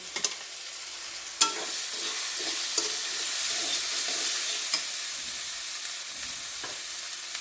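Beef for a Bangladeshi curry fries in plenty of oil in a pan, a close, continuous sizzle broken by a few sharp clinks and scrapes of stirring.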